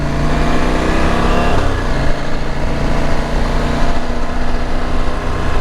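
A KTM 790 Adventure motorcycle cruises at a relaxed pace on a rural road, its engine droning loud and steady with a brief shift in pitch partway through, heard closely throughout with no voices.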